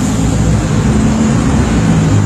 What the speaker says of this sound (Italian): L'autobus.